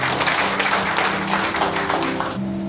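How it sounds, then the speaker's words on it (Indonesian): A church congregation applauds during a Sunday service: a brief, continuous patter of clapping over a sustained musical hum, loud and close throughout. "Berikan tepuk tangan untuk Tuhan"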